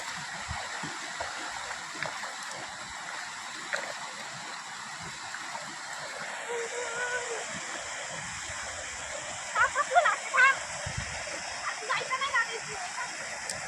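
Water pours and splashes continuously into a container outdoors, a steady rushing stream with a few brighter splashes near the end, while people talk over it.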